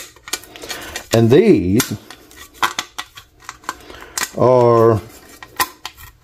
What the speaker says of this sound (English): I got a new set of Gilson shears